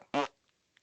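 A single short, loud fart with a buzzing, rumbling tone, close and alone with no talk over it.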